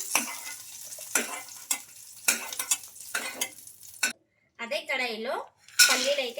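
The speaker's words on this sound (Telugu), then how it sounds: "ఈ పల్లీలు కూడా బాగా ఫ్రై అయ్యే వరకు అయితే వేయించుకోవాలి" Peanuts roasting in a pan, with repeated scraping stirs and light rattling clinks in an uneven rhythm, then a short silence and a voice speaking near the end.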